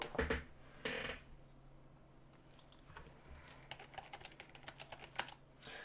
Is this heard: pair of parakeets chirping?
no